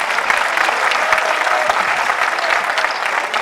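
Dense, steady applause fills the room at a Vaishya community gathering addressed by Delhi's chief minister, loud and continuous throughout with no voices above it.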